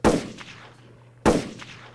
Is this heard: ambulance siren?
no